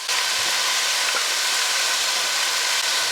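Celery and onions sizzle as they fry in a pot, giving a steady, loud, close hiss that continues evenly without pause and with no talking.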